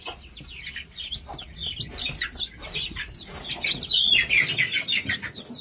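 Newly hatched native chicks in a small backyard pen peep constantly in high, rapid overlapping chirps, a busy close chorus that grows louder toward the end, with soft clucking underneath.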